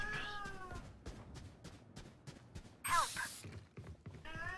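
A pet cat meows loudly and insistently several times in quick succession, close to the microphone, with brief pauses between calls and no talking over it.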